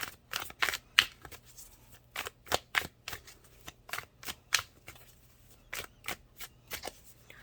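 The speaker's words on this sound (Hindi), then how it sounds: "दो कार्ड और निकालूंगी मैं" Tarot cards shuffled by hand in quiet surroundings, a series of crisp riffling bursts in an uneven rhythm, close and fairly soft, with no talking.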